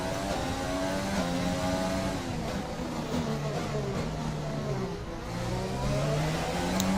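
A Formula 1 car in the racing game F1 2020 at the Baku street circuit in Azerbaijan, its engine howling loudly and continuously as it accelerates, the pitch climbing and shifting through gears, with no voices.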